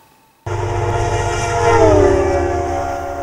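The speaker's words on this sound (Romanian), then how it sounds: "Să mai ascultăm odată trenul." A train passes close by with its horn sounding, the horn's pitch audibly dropping midway as the Doppler effect takes hold over a loud rumbling rail roar.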